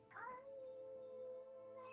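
A kitten gives a single drawn-out meow, quiet and fairly close, that holds one steady tone for nearly two seconds against a faint room hum.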